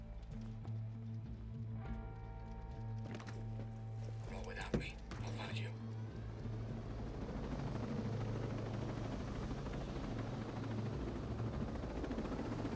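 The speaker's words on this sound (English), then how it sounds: "Well, that's a big old helicopter." A large helicopter in the video game Ghost Recon Breakpoint, rising from a quieter start into a sustained, close rotor and engine roar that fills the second half.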